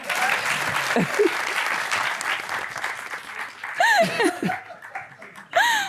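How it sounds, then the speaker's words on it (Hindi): A studio audience on a Pakistani TV talk show claps loudly and steadily, with scattered laughter, shouts and whoops rising over the applause toward the end. "तालियां बजाओ"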